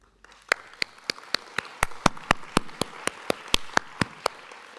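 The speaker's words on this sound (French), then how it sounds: "Je pense qu'on pourrait les applaudir et qu'on doit les applaudir." Rhythmic applause at a French public meeting: a steady run of sharp, evenly spaced claps, about four per second, fairly close and alone, with no talking.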